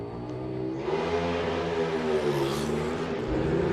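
A Super Twin top gas drag racing motorcycle at a drag strip festival roars loudly and steadily, its engine note rising through a hard acceleration run with no talk over it.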